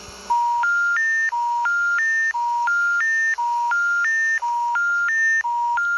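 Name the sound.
telephone dialing tones in video game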